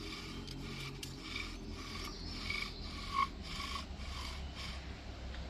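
Wooden bow drill spindle grinding in a wooden fireboard, a steady raspy rubbing that pulses with each back-and-forth stroke of the bow, close and fairly quiet with no talking.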